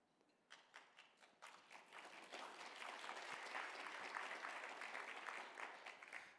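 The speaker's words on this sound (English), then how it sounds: "The bard will be happy to know that he earned your applause." Audience applause at a literary luncheon, beginning as scattered individual claps that quickly thicken into a full, steady round of clapping from a room of diners, moderately distant.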